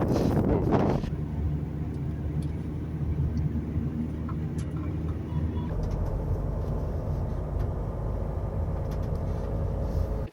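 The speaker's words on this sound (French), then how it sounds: "Là il y a quand même du vent, en même temps c'est un col." Steady wind roars around a winter mountain pass at about 2000 m, a continuous broadband rush with low rumble and no talk, its tone shifting slightly partway through.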